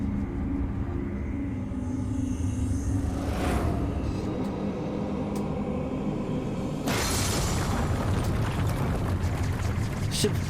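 An airship breaking apart in Final Fantasy XIV, heard as a steady roaring rumble with creaking and rushing debris, then a louder crashing surge near the end, with no talking.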